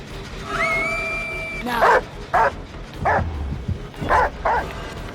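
The Houndmaster's dog in the video game Dead by Daylight gives a high whine, then a series of loud, sharp barks in short irregular bursts, close up.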